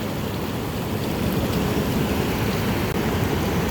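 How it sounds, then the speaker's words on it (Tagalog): Rain falls across an open field in strong wind, a continuous heavy hiss and rumble of gusts and drops that stays steady and loud throughout. "Tapos umuulan pa."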